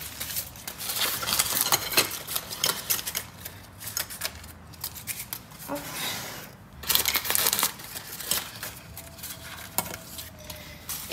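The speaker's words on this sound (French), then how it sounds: "je prends mon ciseau et je vais juste découper les petits bords qui dépassent juste là" Scissors trim the overhanging pastry edges of a homemade quiche, producing a run of crisp, close snips and crunchy cuts in irregular bursts with brief pauses between them.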